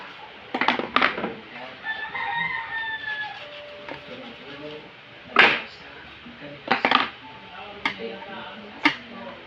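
Dishes being washed in a home kitchen, with scattered clinks and clatters of plates and pots, while a rooster crows in the background and people talk nearby.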